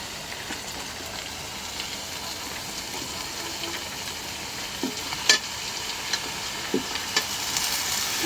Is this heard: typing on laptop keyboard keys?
no